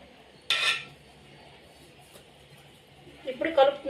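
Avakaya mango pickle being stirred with oil in a metal pot: a sharp clink of the spoon against the pot, then quieter scraping and a cluster of clinks at the end, with a voice talking over it.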